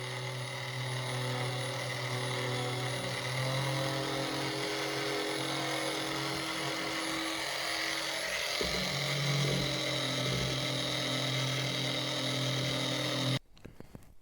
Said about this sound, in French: une ponceuse à angle.